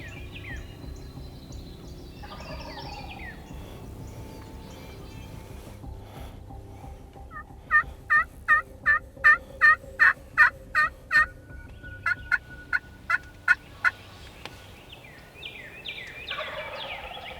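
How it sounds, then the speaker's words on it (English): Wild turkey tom gobbling from a hardwood draw, a clear rattling gobble of rapid pulses standing out from quiet woodland background, followed by a second shorter gobble. "a gobbler fired up right in the hardwood draw below them"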